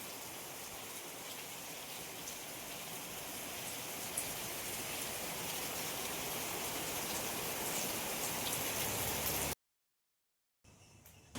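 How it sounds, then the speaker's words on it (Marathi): Heavy monsoon rain falls in rural Konkan, a dense, even hiss that builds slightly over time, cuts out abruptly near the end, then returns for a moment. "माझा हात पण भिजलो भरपूर पाऊस असा आज"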